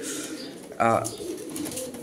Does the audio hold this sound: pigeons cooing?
yes